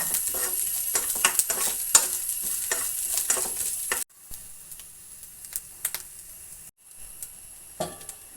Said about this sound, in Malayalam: ഇത് നമ്മൾ ഇതിലേക്ക് ഇട്ട് കൊടുക്കുക ഇതൊന്ന് ജസ്റ്റ് ചൂടാക്കി എടുക്കണേ ഒന്ന് വറുത്തെടുക്കുക